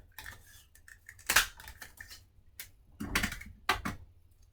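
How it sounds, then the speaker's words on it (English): Scissors snip through a piece of striped paper in short crisp cuts, a few scattered snips, then a louder cluster near the end, close and quiet with no talking. "I'm just going to cut a piece of that stripe."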